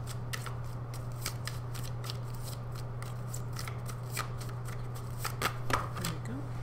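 A deck of tarot cards being shuffled, a rapid run of crisp riffling flicks that keeps going close by over a low steady hum.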